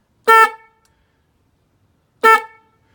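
A horn wired onto an electrified, modified ICE QNT recumbent trike gives two short, loud honks about two seconds apart, each a bright, steady tone that stops cleanly, with silence around them.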